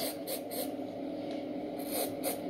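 A steady hiss of medical adhesive remover spray runs throughout during an ileostomy bag change, with a few louder pulses of spraying over a low background hum.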